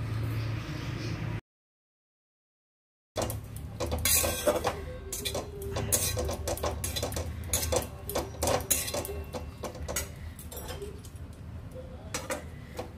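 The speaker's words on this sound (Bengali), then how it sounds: "এবার সমস্ত উপকরণ ভালো করে মিশিয়ে নেব।" Chicken bharta ingredients get mixed in a bowl, a busy run of close clinks, taps and scraping against the dish after a brief pause, steady and moderately loud.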